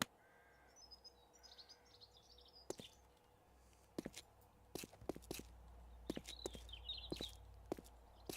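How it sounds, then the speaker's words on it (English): Faint bird calls chirp and caw in the video game 7 Days to Die over quiet ambience, punctuated by scattered sharp clicks and soft thumps. "can't hear much of anything over the birds."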